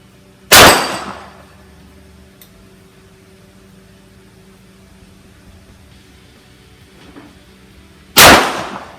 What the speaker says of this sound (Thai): เดี๋ยวลองยิงนะครับ กับเพจประมาณสัก20 เมตรนะโดยประมาณนะครับ